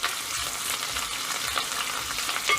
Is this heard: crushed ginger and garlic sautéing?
yes